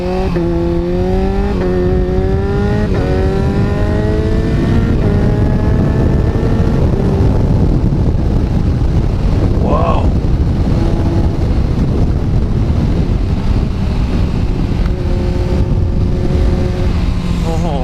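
A Kawasaki Z900 motorcycle fitted with a quick shifter accelerates hard through several rapid upshifts, engine note climbing and dropping quickly with each shift, then holding a loud steady drone under heavy wind noise, with no talk.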